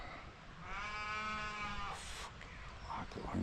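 A single drawn-out sheep bleat, loud and close, wavering for about a second before trailing off into faint background noise.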